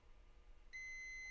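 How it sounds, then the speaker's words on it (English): Multimeter in diode mode on a laptop motherboard gives a steady, thin, high-pitched continuous beep that starts suddenly halfway through over a faint background hiss. "there's a beep"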